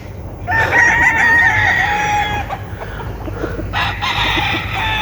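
Rooster (a young stag) crowing loudly and close, two drawn-out calls in quick succession with farmyard background noise and no speech.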